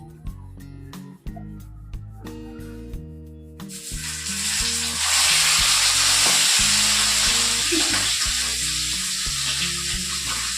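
Pomfret fish goes into hot oil and starts to fry. A loud, bright sizzle swells up and holds steady, and sustained musical tones run underneath the whole time.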